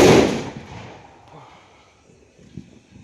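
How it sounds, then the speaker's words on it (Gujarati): A loud burst of Diwali firecrackers goes off at the start, then fades into scattered quieter pops and a sharper crack near the end. "ગેટ રેડી ધમાકા દેવના અને આદિના."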